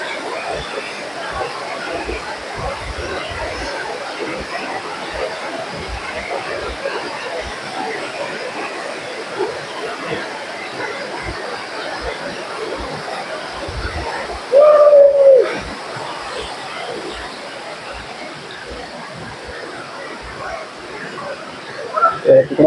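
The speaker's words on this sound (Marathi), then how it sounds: "वरून कोसळणारा धबधबा." Aadoshi waterfall near Khopoli pours down in a steady, loud, continuous roar of cascading water, with a brief louder splash midway.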